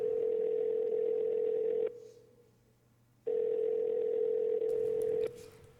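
A telephone rings during a youth stage production of the musical Working: a steady electronic tone sounds for about two seconds, pauses, then sounds again for another two seconds.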